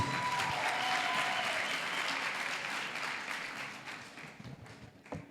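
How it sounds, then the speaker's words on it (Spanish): Applause from an audience at a church youth service, dense and sustained, tapering off toward the end. "Un aplauso para ustedes."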